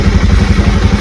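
A motorcycle engine running close by, a loud, steady mid-pitched chug with a rapid pulsing throb and no voices over it.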